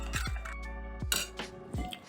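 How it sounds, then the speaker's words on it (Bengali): Spoon clinking against a bowl while ground turmeric, chilli, cumin and coriander are mixed with a paste for a ridge gourd and chana dal dish; a few sharp close clinks and scrapes in quick succession. "মিশিয়ে নিচ্ছি।"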